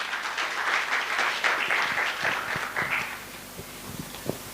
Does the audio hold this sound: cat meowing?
no